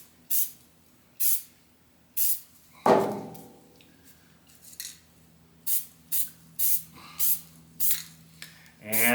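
Spray can laying black coats onto an antique nail puller in a series of short, close hissing bursts, about a dozen with brief gaps and one longer spray.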